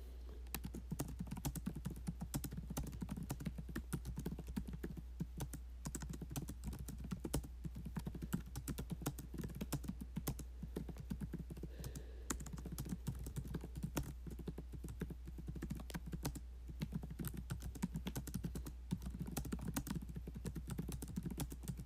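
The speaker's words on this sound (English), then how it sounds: "Sorry, I was just typing the message." Fast, continuous typing on a computer keyboard, a rapid close clatter of key presses with a steady low hum beneath and no talk.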